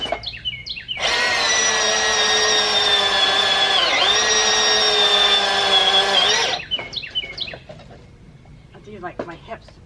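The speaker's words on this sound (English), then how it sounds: "Let me chainsaw." A chainsaw engine roars steadily for several seconds while felling a tree, bogging down briefly midway as it sticks before cutting off, followed by scattered clatter and short noises.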